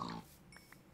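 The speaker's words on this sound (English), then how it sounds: "the sound a pig makes when it dies" A pig's dying squeal from the Minecraft video game, a brief high cry at the start followed by a couple of faint short blips, quiet and alone.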